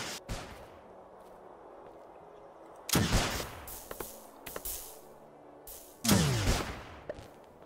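Weapon fire from the video game Starbound: a few short loud bursts of shots, each with a ringing tail, spaced several seconds apart over a quiet background.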